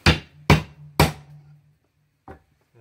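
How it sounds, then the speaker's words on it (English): A hammer tapping a wood plug into a Mangaris hardwood decking board, three evenly spaced sharp knocks half a second apart, then a fainter fourth tap after a pause. "I'll just take one of my samples and my hammer,"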